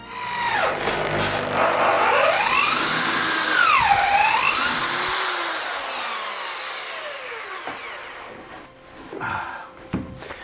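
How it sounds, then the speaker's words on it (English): A power drill whines and bores into hard ebony wood for a carved sword grip, smoking from friction, its pitch rising and falling as the bit works, then easing off near the end. "whenever you start drilling the ebony, it pretty much starts smoking straight away"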